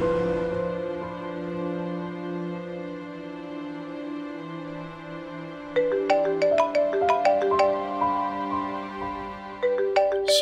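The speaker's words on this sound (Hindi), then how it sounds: "इसका फोन क्यों आ रहा है?" A mobile phone plays a melodic ringtone for an incoming call, sustained tones giving way to a quick plucked, bell-like tune that repeats, clear and close in a quiet indoor drama scene without speech.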